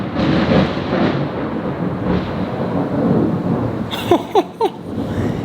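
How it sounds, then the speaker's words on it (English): Heavy rain falls outside in a continuous wash while thunder rumbles low and long, with a few short sharp knocks and squeaks near the end. "If you can't tell, it's raining outside."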